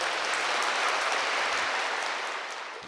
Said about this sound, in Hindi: जोर से ताली बजाओ इन लोगों को।